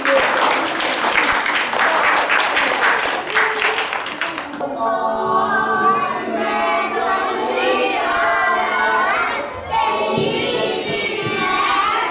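Children applaud inside a mosque decorated with balloons, a burst of clapping and crowd noise in the first few seconds, then giving way to an adult voice speaking.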